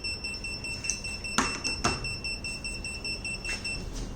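A smart door lock built on a Raspberry Pi beeps when a guest password is entered. Steady high electronic tones sound with a few sharp clicks or taps, fairly quiet, with no talk.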